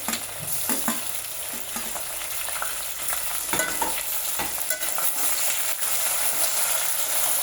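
Green chillies and finely chopped tomatoes fry in a pan with steady, close sizzling and occasional scraping stirs throughout, no voices.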